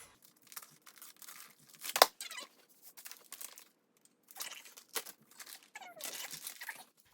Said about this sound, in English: I'm gonna go ahead and unwrap a book for the next 2 weeks